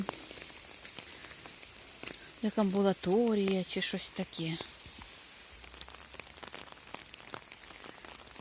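Light rain patters steadily while walking through a German village, faint and close, with someone briefly speaking over it midway.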